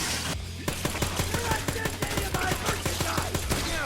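A submachine gun in Dead Rising Deluxe Remaster fires a long, rapid, evenly spaced string of sharp shots over tonal background music, loud and close.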